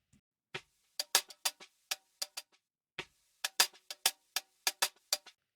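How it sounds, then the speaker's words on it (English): A hi-hat loop sample for beatmaking plays alone, with crisp, dry ticking hits in a syncopated pattern that pauses briefly midway and then repeats. "loop, hi-hat loop that I got from somewhere"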